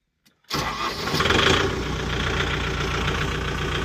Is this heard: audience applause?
no